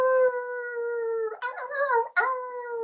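A person's voice imitates a long, wavering coyote howl, sustained, then breaking into yips and rising wails, close and fairly clear with no other sounds around it.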